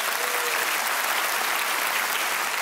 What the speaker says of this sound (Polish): Oklaski mogą nastąpić.